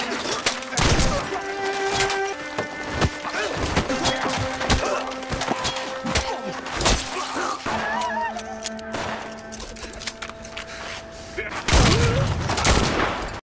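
Sharp, scattered gunshots ring out in a chaotic battle scene between bandits and Japanese soldiers, with irregular bangs and booms among shouting voices and music over roughly thirteen seconds.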